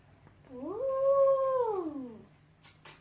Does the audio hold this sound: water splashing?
no